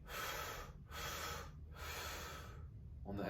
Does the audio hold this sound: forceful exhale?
yes